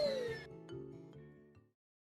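House cats let out one drawn-out, falling meow up close, trailing off into a few soft, faint noises before silence.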